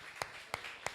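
Church congregation clapping in praise, three spaced, fairly faint hand claps in a slow steady rhythm.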